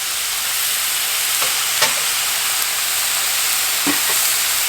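Fatty meat sears in a dry pan with no oil over a medium-low flame, a steady loud sizzle and crackle running unbroken throughout, with a few faint clinks.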